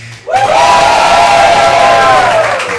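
A school showcase audience hoots, cheers and claps after a game, a sudden loud burst of crowd noise with rising whoops that holds steady to the end.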